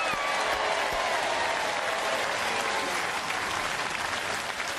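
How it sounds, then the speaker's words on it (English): A studio audience at a televised robot combat championship breaks into sustained, dense applause, loud and even from start to finish, with crowd noise mixed in. "Give a big round of applause for that."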